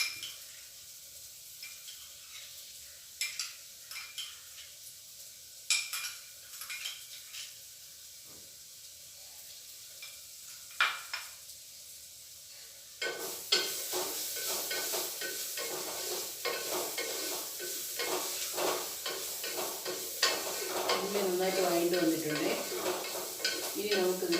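Ghee for tomato rice sizzles and hisses in a pan, starting with quiet scattered clinks and stirring, then turning into a loud, steady frying roar for the second half, close up with no talk.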